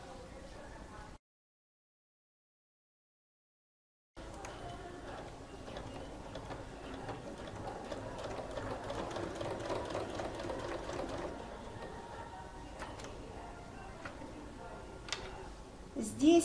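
Sewing machine stitching the pocket opening on denim, a steady mechanical whir with fine rapid ticking of the needle, running continuously after a short pause, close and moderately loud.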